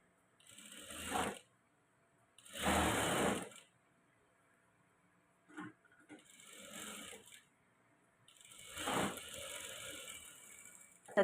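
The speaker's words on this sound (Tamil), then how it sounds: "எட்ஜில் சின்னதாக ஒரு தையல் போட்டுக்கலாம்." Sewing machine running in short separate bursts while edge-stitching a padded blouse, each rapid whirring run stopping and starting again with quiet gaps between.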